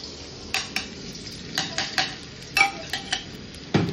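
Ginger, garlic, capsicum and celery frying in hot oil for a vegetable soup, a soft sizzle underneath a string of quick clinks and scrapes from a utensil stirring the pan.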